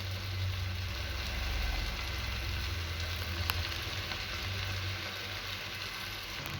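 Leftover roti fries in a pan with spices, garlic and onion, giving a steady, even sizzle with a low hiss that holds throughout, alone and fairly quiet.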